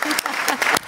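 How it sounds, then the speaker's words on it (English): Brief burst of audience clapping at a housing and support forum, a few sharp claps standing out close within a short stretch of applause. "A big applause indeed."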